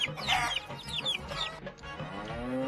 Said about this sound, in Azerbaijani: cücə,